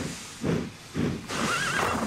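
Cartoon horses in a Thomas & Friends train scene, with repeated loud neighs and whinnies in a rhythmic pattern, clip-clopping hooves and a hissing steam engine underneath.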